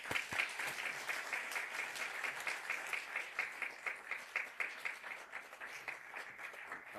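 A Sunday church congregation claps steadily to welcome a guest pastor to the pulpit, a full, even applause that fades slightly toward the end, heard alone without speech.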